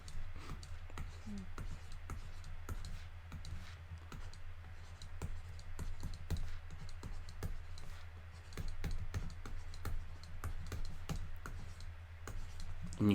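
Steady, rapid clicking of keys on a computer keyboard, close by, with irregular bursts of keystrokes over a low background hum.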